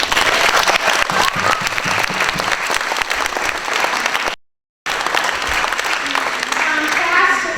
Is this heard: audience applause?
yes